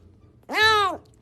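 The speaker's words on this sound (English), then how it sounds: "Is that actually what that cat sounds like?" A cat in a funny meme video gives a single clear, drawn-out meow with a rising then falling pitch, loud and close against a quiet background.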